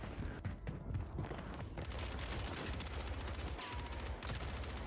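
Gunfire rattles nearly nonstop in Call of Duty on Rebirth Island, with dense automatic bursts and distant shots blending into a loud, continuous battle din without voices.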